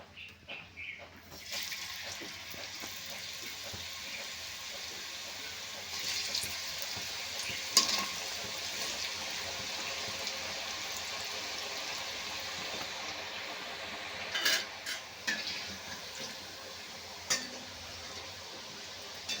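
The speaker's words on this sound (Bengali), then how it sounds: "আবার একই রকমভাবে আবার কিছু পিঠে ভেজে নেব।" Palm fruit pitha frying in oil in a pan, a steady close sizzle and bubbling crackle with occasional clinks and brief louder spatters.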